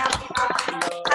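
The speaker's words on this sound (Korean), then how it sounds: "좀 박수로 마치겠습니다" Brief, uneven clapping from a handful of participants in a church parent and teacher Zoom seminar, with crisp separate claps overlapping for about a second.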